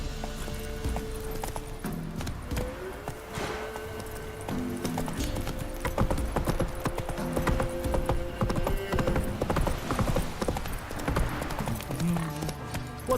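Roach the horse galloping in The Witcher 3, hooves pounding in a fast, steady clip-clop rhythm, close and loud over a game music score and background ambience.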